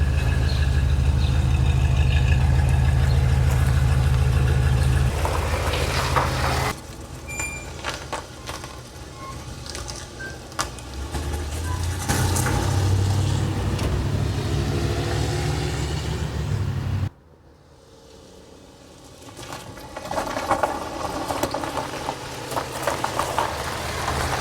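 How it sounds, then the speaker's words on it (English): Carbureted car engine after a carb adjustment, idling with a steady low rumble and then pulling away, its tone shifting as it drives, with a sudden drop in level near the end before the engine noise picks up again. "It would usually idle just fine, but then once I put it in reverse or drive, that would drop the RPMs and then it dies."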